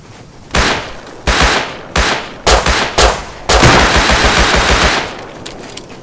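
Loud automatic gunfire in the survival game Rust during a base defense, fired into a bush in several close, rapid bursts separated by short pauses, with a final longer burst and no voices over it.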